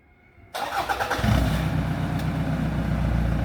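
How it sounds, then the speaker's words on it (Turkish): A 2007 Toyota Land Cruiser engine, started by remote signal, cranks and catches, then settles into a steady, rumbling idle, close by with no voices. "Aracımız çalıştı."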